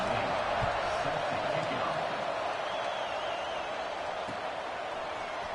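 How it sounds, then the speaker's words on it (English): Football stadium crowd, a dense steady roar filling the whole stretch, with a commentator talking over it. "this crowd is buzzing after that last score"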